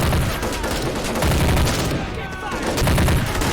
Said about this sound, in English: What a firefight.